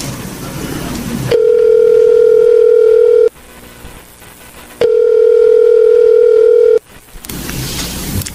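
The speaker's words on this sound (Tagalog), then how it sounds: "Kaya tatawagan ko na siya." A telephone dial tone sounds during a call in a Filipino radio drama, two loud steady tones each lasting about two seconds with a short quiet gap between them, clear and close with no talking.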